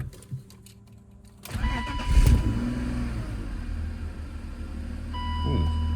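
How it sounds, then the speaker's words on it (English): A BMW car engine, left sitting for two years, cranks and catches after a quiet start, then revs briefly with a rising roar before settling to a steady idle rumble, close up. "Ooh, nice little rev."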